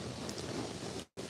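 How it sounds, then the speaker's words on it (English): Rain falling outdoors in a field during an evening hunt, a steady broadband hiss of drops that runs continuously and cuts out briefly near the end, with no talk. "because it's raining"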